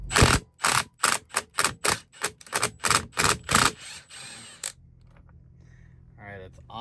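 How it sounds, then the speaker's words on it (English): A 1-inch impact wrench hammers loose the steering wheel nut on a Peterbilt truck, firing about ten sharp, loud, evenly spaced bursts over four seconds, then stopping into quiet shop ambience. "Got the 1-inch on my impact."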